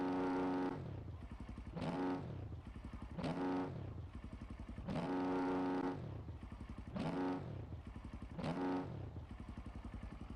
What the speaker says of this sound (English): So I'm just going to rev it a couple times.